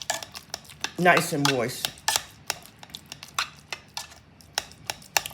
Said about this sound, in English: I like to mash them in my pot that I cook them in.